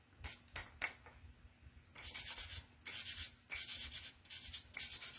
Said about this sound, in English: Let's get all this distressing done.